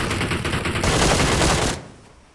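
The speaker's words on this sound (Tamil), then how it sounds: "ஷார்ட் கன் வச்சிருக்கான்" Gunfire in the mobile battle royale game BGMI: loud, dense overlapping shots for nearly two seconds, then stopping abruptly and leaving quieter background.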